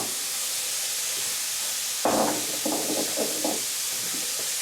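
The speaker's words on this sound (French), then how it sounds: "je vais rajouter l'huile de sésame" Sesame oil poured into vegetables in a wok, a steady hiss that jumps into a sudden louder sizzle partway through, then crackles and settles.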